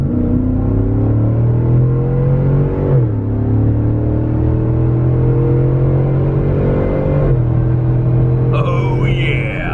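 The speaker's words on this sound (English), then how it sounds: "So here's the Corsa full pull exhaust." GMC Denali truck with a Corsa full pull exhaust accelerating, a loud, steady droning exhaust that rises in pitch through long pulls, dipping briefly at each gear change, with faint voices heard near the end.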